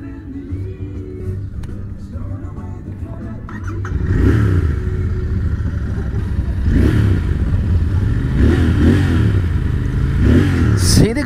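A Royal Enfield Continental GT 650 motorcycle engine idles and then revs up loudly from about four seconds, with several rising throttle blips close by.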